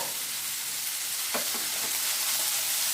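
Onion, garlic, green chilli and salt frying in a pan, with a continuous sizzle and a brief spatula scrape as the mix is stirred.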